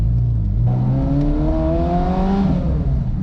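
A Koenigsegg Jesko engine revs steadily, its tone climbing and falling in smooth sweeps, a continuous high-performance roar filling the whole moment.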